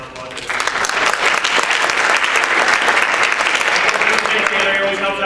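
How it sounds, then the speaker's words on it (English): An audience claps steadily and loudly for a high school building construction class at a school play, the applause sustained and dense throughout with no break. "let's give them a round of applause"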